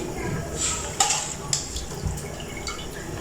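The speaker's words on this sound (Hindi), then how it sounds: "चूँकि पानी बॉयल हो रहा है तो इसलिए हम चावलों को भी साथ ही डाल देंगे।" Rice is tipped into a pot of boiling water while cooking chicken biryani, a watery splash and bubbling with a few sharp clinks and drips against the vessel, close and moderately loud.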